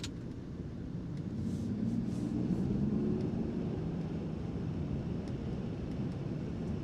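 A Land Rover Defender 90 Trophy driven at high speed through a corner, a steady, loud roar of engine, tires and wind that swells slightly and then holds, with no talking.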